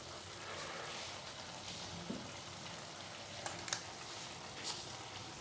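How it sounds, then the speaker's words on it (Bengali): Chicken curry meat sautés with spices in a pan, giving a soft, steady sizzle with a few faint stirring clicks, heard close but quiet. "খুব ভালোভাবে মাংসটা কষিয়ে নেব"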